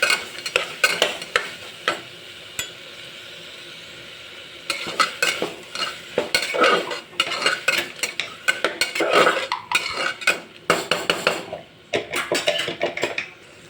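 Vegetables with salt are stirred in a pressure cooker for paneer cashew masala rice, a spoon scraping and clattering against the pot in quick repeated bursts over a soft sizzle, close up with no talk.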